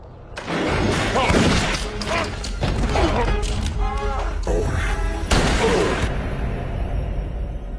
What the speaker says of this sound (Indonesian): Abah berhasil menembak si preman dari atas dan menyelamatkan Lena tepat waktu